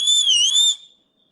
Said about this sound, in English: whistle for it, please